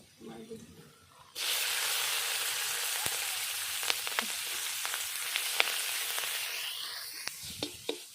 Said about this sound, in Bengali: একটু তেল দিয়ে লঙ্কা কটা ভেজে নেব